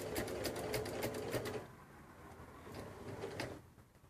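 A sewing machine slowly stitching a binding strip onto a quilt, a quiet run of rapid needle clatter followed by a pause and a second shorter burst, close and soft.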